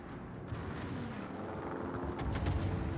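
Ship guns fire in a World of Warships naval battle, with faint, distant booms and rumbling bursts scattered through continuous low background noise.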